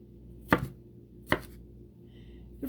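A knife cuts peppers into quarters on a board, with three sharp, distinct chops spaced apart and quiet in between, and no voices.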